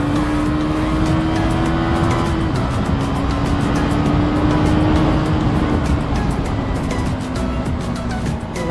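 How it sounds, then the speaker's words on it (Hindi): A KTM Duke 250 motorcycle is ridden on a group Sunday ride, its engine a loud, steady drone with a held tone that shifts once, under heavy wind rush. "काफ़ी टाइम बाद चला रहा हूँ मैं बाइक वाली"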